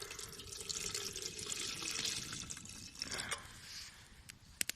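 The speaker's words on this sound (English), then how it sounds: "I'm going to add some water into the pot here" Water pours into a cooking pot beside an outdoor campfire, a continuous close splashing gurgle that thins out and ends with a few small drips and clinks.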